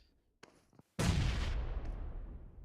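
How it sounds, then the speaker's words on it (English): A grenade goes off in the mobile battle royale game PUBG Mobile: a few faint clicks and taps, then a sudden loud blast at about one second that rumbles and slowly fades over the next second and a half. "Nice nade from Silas."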